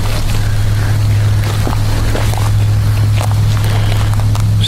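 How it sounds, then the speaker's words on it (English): Wind blows off a river into woodland, rushing loudly and continuously against the microphone with a heavy low rumble. "There's a lot of wind filtering off the river into these woods"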